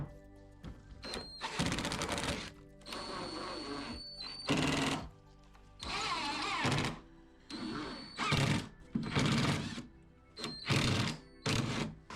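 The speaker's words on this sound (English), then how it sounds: "I'm now going to screw both the top back on and the other top back on to this piece." Intermittent whirring bursts of a power screwdriver driving screws to fix the top back onto a 19th century sideboard, close and fairly loud, each burst lasting a second or two with short pauses between.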